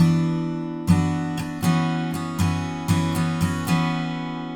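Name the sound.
acoustic guitar strumming pattern, lifting index finger on up strum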